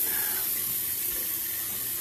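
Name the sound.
faucet filling with hot water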